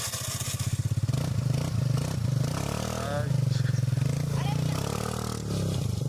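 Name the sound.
Suzuki Access 125 scooter with Akrapovic exhaust revving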